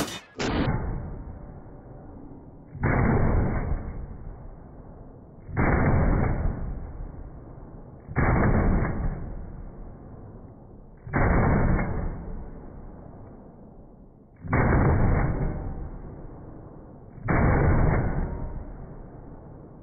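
A Dissident Arms KL12 magwell-fed gun fires seven loud, sharp shots at a steady pace about three seconds apart. Each shot is followed by a short decaying tail, and nothing else is heard.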